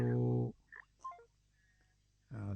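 Telephone keypad tones while dialing a call back on a phone, a few brief beeps heard faintly in a quiet pause between two louder spells of sound.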